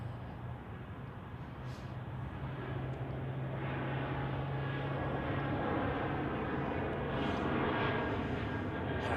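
Jet airliner at Zurich Airport in crosswinds, a steady broad engine roar that builds slightly and holds at moderate distance, with no voices.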